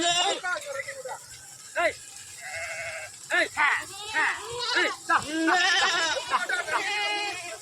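Several sheep bleat repeatedly while being washed, overlapping calls from a nearby flock with some people's voices mixed in.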